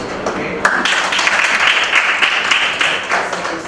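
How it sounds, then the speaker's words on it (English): Applause from a debate class of students filling the room for a few seconds, a steady dense patter of clapping with some voices mixed in. "a hand of applause to everyone"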